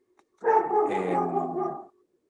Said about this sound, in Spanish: Mi perro está ladrando, disculpen.